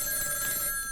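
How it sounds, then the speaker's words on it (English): A telephone rings in Clark Kent's apartment, a steady bright electronic bell tone sounding continuously for the full second, clear and fairly close. "the phone rings in Clark Kent's apartment"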